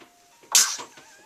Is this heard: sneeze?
yes